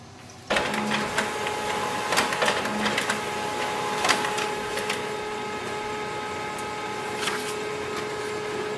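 An HP LaserJet Pro MFP 3101fdw laser printer starts up abruptly and runs pages through with a steady mechanical whir, punctuated by clicks and feed clunks, close and alone.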